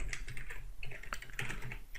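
Computer keyboard typing during a Python programming lesson, a quick run of close, crisp key clicks tapping in uneven bursts with no talk over it.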